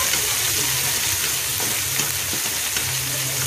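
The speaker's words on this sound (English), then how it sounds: "You cook the onions until you see that it is almost transparent or translucent." Onions sizzle and fry steadily in a pan for a Filipino chicken afritada, with a continuous close hiss and occasional stirring scrapes, no voices.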